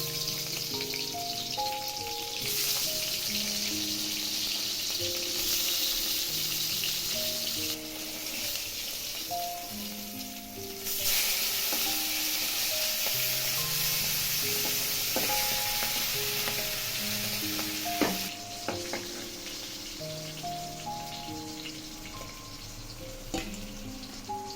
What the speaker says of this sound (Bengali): সেই সময়ে আমি মাছগুলো ভেজে নিলাম